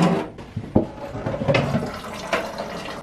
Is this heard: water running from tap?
yes